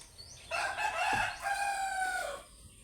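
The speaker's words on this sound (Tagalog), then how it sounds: "Wala putak-putak ng manok" A rooster crows loudly and close by in one long drawn-out call, rising and then trailing off, with faint background noise before and after.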